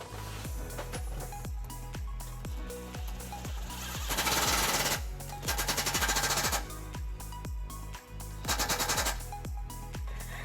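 A power tool drives large self-tapping screws through a 13mm socket into a 2002 Lexus LX470 frame to mount a trailer hitch bracket, giving loud rapid hammering bursts of impacts, repeated in several runs with brief pauses between.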